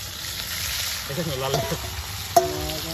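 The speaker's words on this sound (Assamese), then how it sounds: "এই কেৰাহীত একদম জুই লগাই মাংস সিজি আছে" Meat sizzles over a high flame in a kadai, a close, steady frying hiss with a few clinks and knocks from stirring, while a voice is briefly heard in the background.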